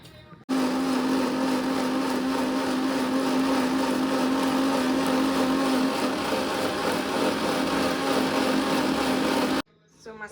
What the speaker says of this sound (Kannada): ಸೊ ಇದನ್ನು ರುಬ್ಕೊಬಿಡೋಣ ಈಗ